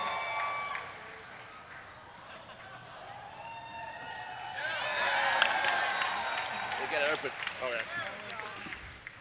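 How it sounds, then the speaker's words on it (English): An audience at an internet convention breaks into cheering and applause from a distance, swelling midway into a lively roar of claps and whoops, with people talking nearby throughout. "You know it's an internet convention when people cheer a basket from 4 feet away"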